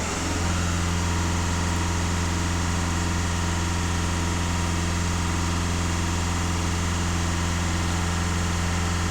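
A VW Passat B7 with EGR system faults runs at raised revs, producing a steady, even engine hum with a constant droning tone and no change across the whole stretch.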